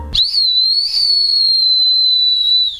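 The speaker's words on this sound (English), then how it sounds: "and a whistle." A safety whistle from a Tokyo hotel amulet gives one loud, shrill, sustained blast close by, lasting nearly three seconds.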